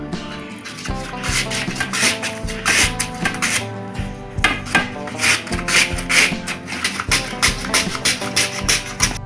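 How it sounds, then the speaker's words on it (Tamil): Peeled beetroot pushed across a chips slicer, a steady series of rhythmic rasping strokes, loud and close, with cut pieces falling; there is no talking. "இதை சிப்ஸு கட்டையில் வச்சு செத்திக்கலாம்"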